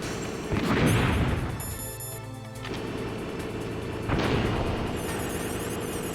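A gun turret fires in the Metal Gear Solid video game, with heavy booming bursts and a sustained mechanical rattle, loud and close over a constant game-sound bed.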